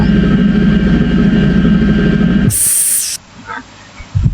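A simulated drilling machine in Factory IO software gives a steady broadband hiss and hum for about two and a half seconds. A brief high-pitched burst follows, then near quiet with small clicks.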